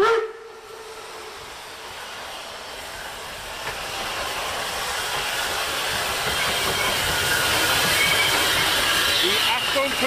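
A class 58 steam locomotive rolls in during winter in Thuringia with a growing hiss and rumble, getting louder as it nears, with a brief whistle-like tone at the start.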